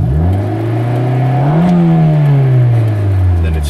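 A 1994 Honda Civic Del Sol with VTEC revs up close and loud, its engine note climbing to a peak before sinking back toward idle.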